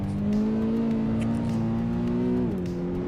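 A Toyota GR86 engine in the racing video game Assetto Corsa EVO. A steady simulated engine drone holds a sustained tone, rising slightly before one sharp drop near the end.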